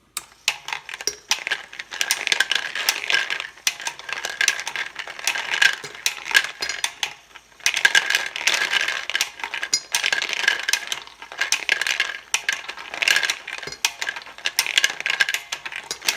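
A 3D printed bullet feeder runs, its cartridges rattling and clinking metallically as they slide up a ramp, in repeated dense bursts of tinny clatter with brief pauses between.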